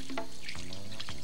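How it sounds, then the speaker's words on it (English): A water tap runs with a steady splashing rush, close by and continuous, with faint dripping and trickling mixed into the flow. "You gotta get it off fast, using plenty of running water."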